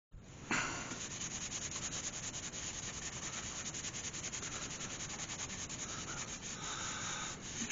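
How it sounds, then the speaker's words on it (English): Sand sealer rubbed onto a burnt hawthorn vase spinning on a wood lathe, a steady close hissing friction with a continuous whirring hum underneath. "let's get some sand sealer on that"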